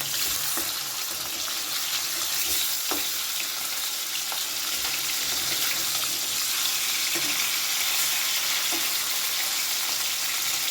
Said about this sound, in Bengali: যতক্ষণ মাছগুলো ভাজা হচ্ছে